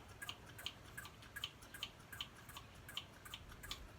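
Brake fluid drips steadily while the brakes of a Kawasaki KX250F dirt bike are bled, each small tick falling at an even, quick rhythm over a faint background hiss, with no talking.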